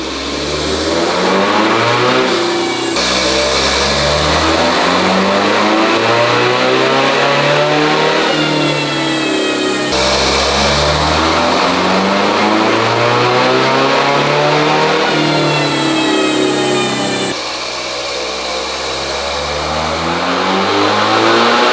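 A Toyota Hilux drag build engine revs hard on a dyno, loud and close, rising repeatedly through long wailing pulls with brief drops between runs, no voices over it.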